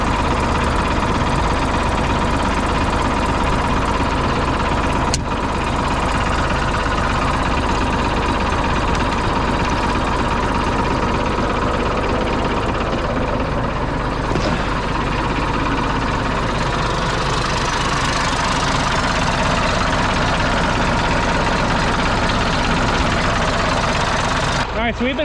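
A Cat 966D wheel loader's diesel engine idles with a loud, steady rumble close by, while people talk briefly over it.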